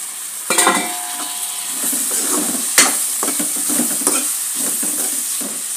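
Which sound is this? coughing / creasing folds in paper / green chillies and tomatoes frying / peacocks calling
green chillies and tomatoes frying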